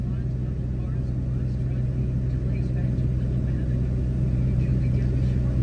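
A 1984 Mercedes 300 D diesel engine runs steadily with a deep, constant rumble, its revs held a little higher while the air conditioning is being checked with the auxiliary fan not coming on.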